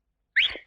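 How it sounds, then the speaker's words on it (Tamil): A single short, bright whistle from a person, rising quickly then fading within half a second, loud and clear against silence. "என்ன இனிமையான விசில்"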